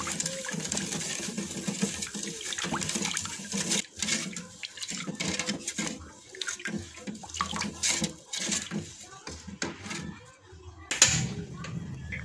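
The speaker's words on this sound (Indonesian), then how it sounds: "lalu tambahkan air sebanyak 900 ml" Roughly 900 ml of water pours into agar jelly powder for a pudding, a continuous splashing gush near at hand that swells and dips with a few clinks toward the end.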